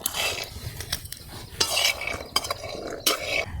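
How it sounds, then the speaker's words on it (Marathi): Raw peanuts roasting in a pan are stirred with a metal utensil, making bursts of rattling, scraping clatter against the pan over a light background hiss, close and fairly loud. "ओले शेंगदाणे हे थोडे दमानेच भाजावे लागतात म्हणजे चांगले भाजतात"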